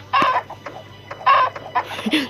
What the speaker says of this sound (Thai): ไก่ก็มา